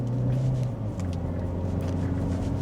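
2025 Chevrolet Equinox RS accelerating, a steady low engine drone rising slightly in pitch over road rumble, heard from inside the cabin without talk.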